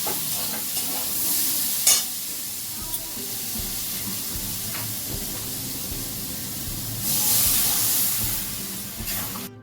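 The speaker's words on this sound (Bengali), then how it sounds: "আর এই আনাজ কুটে বসালাম উচ্ছে আলুর তরকারি" A bitter gourd and potato curry cooks in a pan with a steady hiss and sizzle, a few clinks and scrapes of stirring, and a louder burst of sizzle toward the end.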